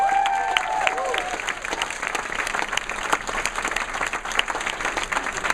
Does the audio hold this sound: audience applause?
yes